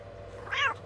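A cat meows once in the Postal 2 video game, a short, rising and falling mew standing clearly above a low, steady background hum.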